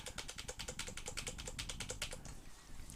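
Rapid, even keystrokes on a computer keyboard, repeating Control V about a dozen times in quick succession, close and fairly quiet, with no talking.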